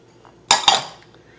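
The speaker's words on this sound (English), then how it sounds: "We'll start by putting in our mango" A utensil knocks twice against a bowl as chopped mango is added to a pirate salsa, two close, bright clinks with a short ringing tail in a quiet kitchen.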